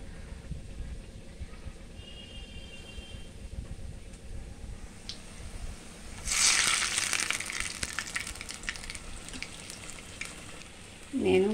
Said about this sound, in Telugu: ఆయిల్ కాగిన తర్వాత గారెలు అనేవి వేయచ్చు.